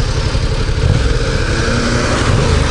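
A 2018 Yamaha MT-07 motorcycle engine runs loud and close with a steady, throbbing low rumble that holds without a pause for the whole stretch.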